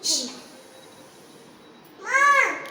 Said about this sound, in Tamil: இது ஒரு பூனை.